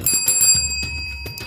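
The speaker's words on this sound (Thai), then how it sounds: "อย่าลืมกดกระดิ่งกริ๊งกริ๊งนะคะ" A bright notification bell rings in a quick series of metallic dings with a ringing tail, loud and close, alone without speech.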